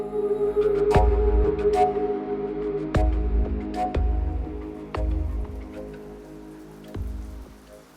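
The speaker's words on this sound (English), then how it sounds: "The rain lashes down" Rain lashes down on a stormy night, steady patter under a low ambient drone, punctuated by sharp heavy drops or thuds roughly every second.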